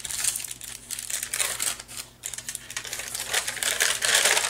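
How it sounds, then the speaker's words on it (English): Paper flaps in a journal being folded by hand: crisp crinkling and rustling in quick irregular bursts, close up, with a short pause in the middle and no talking. "I'm just folding these to get these out of my way."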